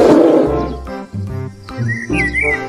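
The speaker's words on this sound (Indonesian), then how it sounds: "Wow, ini beruang." Toy bear letting out a recorded roaring growl, loud and close, with tonal rising cries layered over a low rumbling hum, running continuously through the short clip.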